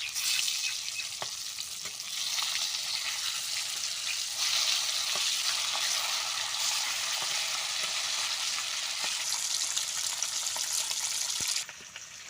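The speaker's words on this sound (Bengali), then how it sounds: "এখন আমি উল্টে দেব, ওই পাশটাও একটু ভাজা হয়ে যাবে।" Raw hilsa fish pieces frying in a pan after being turned over, a loud continuous crackling sizzle close by, with a few sharp spatters and no talking.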